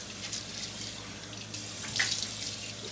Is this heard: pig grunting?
no